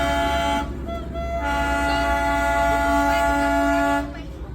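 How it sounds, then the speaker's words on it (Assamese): The Darjeeling toy train sounds a long, steady whistle for several seconds over a low rumbling of the moving train, loud and close, then cuts off. "টয় ট্ৰেইনৰ এই কুকিটো মেইন"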